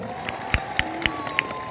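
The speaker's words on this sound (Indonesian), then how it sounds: "Tepuk tangan sing kompak atuh." Audience members at a Nahdlatul Ulama centenary religious lecture clap together in unison, four or five sharp, evenly spaced collective claps over a low murmuring crowd.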